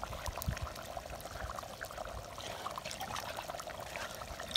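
Water-thinned paste of ground cumin, fennel and pepper poured into a pot of simmering mutton curry, a steady soft trickle and splash running continuously at low level, with no voices.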